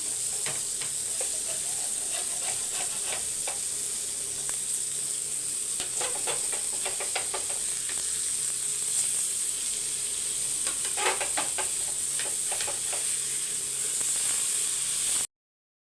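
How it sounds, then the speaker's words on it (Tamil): Sankara fish cooks in a pan of Tamil meen kuzhambu curry, giving off a steady, close sizzle and bubbling hiss with faint scattered crackles and pops that run evenly throughout. "இப்போ மீனை திருப்பி விட்டுடலாம்"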